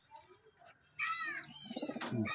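Domestic pigeons coo in a loft, a few soft rolling calls close by with brief quiet gaps, no voices.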